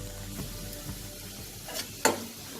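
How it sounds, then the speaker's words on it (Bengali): About ten cloves of finely chopped garlic fry in oil in a pan, a soft steady sizzle with a few stirring scrapes and one sharper clatter near the end. "রসুনটাকে ভালো করে ভাজা ভাজা করে নেব।"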